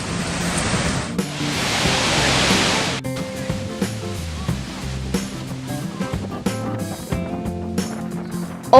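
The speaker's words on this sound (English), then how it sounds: "This is Skogafoss. Foss means waterfall in Icelandic." Skogafoss waterfall in Iceland roars as a steady broadband rush, loudest in the opening seconds and then dropping lower under other scattered sounds and clatter.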